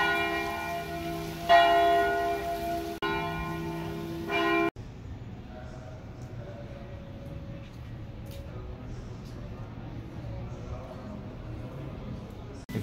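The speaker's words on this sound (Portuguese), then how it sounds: "tocando o sino da igreja, bem na hora" A church bell rings in the center of Gramado, Brazil, with several resonant strikes in the opening seconds, followed by quieter street ambience and distant activity.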